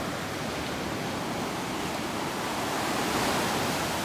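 Big ocean waves roll onto Belmar Beach after a storm, making a steady, soft wash of surf with no breaks and no voices.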